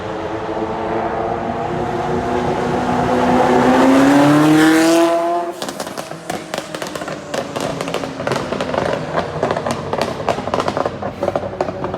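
A McLaren Senna engine revs up loudly and swoops in pitch at Monaco, then lifts off into a long barrage of sharp exhaust pops and crackles.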